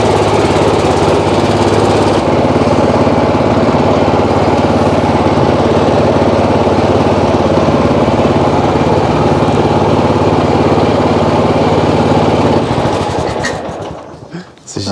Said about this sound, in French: c'est un tracteur qui fait aussi tondeuse